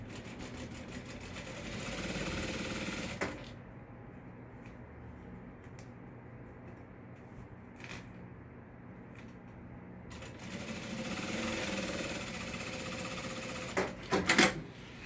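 A sewing machine stitches along the edge of a makeup bag in two bursts of steady, rapid whirring several seconds long, separated by a quieter pause with faint handling clicks.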